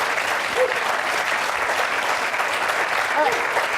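An audience applauds at a talk with Sister Simone Campbell, the clapping loud, dense and steady throughout with no pauses.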